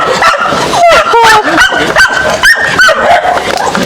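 A dog in the Jamaican countryside barks and yips in quick, sharp bursts close by, with a few whimpering yelps between them and people talking over it.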